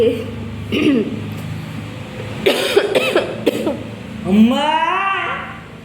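Harsh bursts of coughing from a person sick for two days with a heavy cough, fever and chest congestion: a single cough, then a cluster of several, followed by a short stretch of voice at close range.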